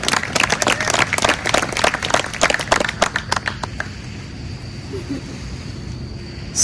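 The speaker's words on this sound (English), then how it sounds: "Let's give her a big round of applause." Wedding guests at a beach club clap loudly for the bride, a burst of close, crisp clapping that fades after about four seconds into breezy outdoor quiet with faint wind.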